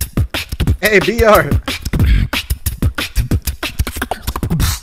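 Mouth-made beatbox drums with punchy kick, snare and hi-hat imitations in a quick rhythm, close and loud. A short vocal shout and a sung, wavering tone are mixed into the beat.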